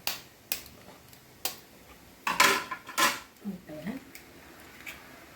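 An egg is cracked onto kothu parotta in a hot pan and worked in, giving a few sharp taps and clinks followed by a short burst of metallic scraping and clatter, close by, with quieter ticks trailing off.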